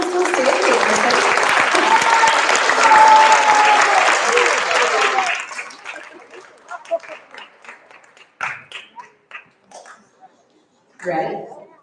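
A school spelling bee audience for 6th to 8th graders claps loudly for the spellers still standing, dense applause for about five seconds that fades into scattered claps, then a person speaks.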